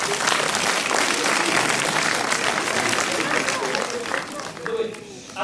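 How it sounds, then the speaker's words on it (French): Loud, sustained applause from a magic show audience cheering a volunteer, dense clapping filling the whole stretch with crowd noise and a slight dip near the end. "On applaudit très fort."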